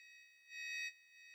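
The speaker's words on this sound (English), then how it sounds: "That's a heck of a sweep." A pure sine wave sweep generated by a JSFX/YSFX plugin in Bitwig, a steady high tone that swells louder and brighter for a moment mid-sweep before settling back, with no voices.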